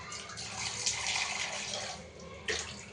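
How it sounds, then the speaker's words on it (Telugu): Water runs steadily into a pressure cooker holding soaked chickpeas for home-style chole masala. It is a continuous, moderately loud splashing pour with a small surge near the end and no talk. "కొన్ని సగం కప్ అన్ని వాటర్ వేసేస్తున్నాం"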